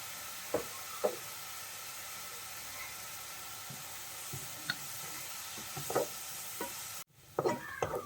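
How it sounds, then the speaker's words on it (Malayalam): Sliced onions sautéing in a pan with salt and turmeric while preparing restaurant-style chicken masala, giving a soft steady sizzle broken by several clear stirring scrapes and clacks of a utensil, with a louder clatter near the end. "നമുക്കൊരല്പം മഞ്ഞൾപ്പൊടിയും കൂടി ഇട്ടിട്ട് ഒന്ന് വഴറ്റിയെടുക്കും."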